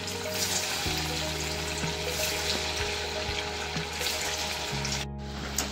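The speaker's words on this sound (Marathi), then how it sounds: "आता आपलं तेल छान गरम झालेलं आहे आणि हे वडे आपण याच्यामध्ये डीप फ्राय करून" Spinach vadas deep-frying in hot oil give off a steady, dense sizzle and crackle that runs unbroken from start to finish, fairly close and without talk.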